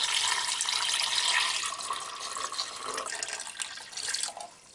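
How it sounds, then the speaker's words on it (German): Water runs steadily from a tap into a Thermomix bowl, a bright continuous splashing stream that thins and trickles toward the end, with no talk over it. "Und jetzt füllen wir nämlich Wasser auf."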